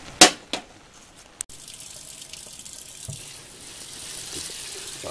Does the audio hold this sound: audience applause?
no